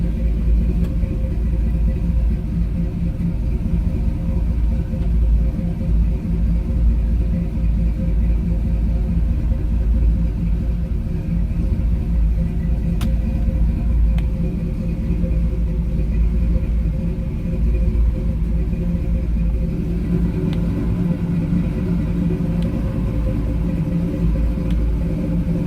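A 1968 Chevrolet Camaro RS with an automatic transmission and updated drivetrain idles steadily with a deep, even rumble throughout, close and continuous with no revving.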